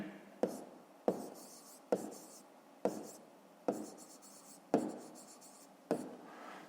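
Pen writing an answer on paper during a fifth-grade maths exercise, heard as seven sharp strokes at regular intervals of roughly a second, each fading into a soft scratchy tail, close and fairly quiet.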